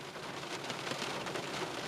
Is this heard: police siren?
no